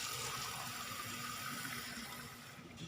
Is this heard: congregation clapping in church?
no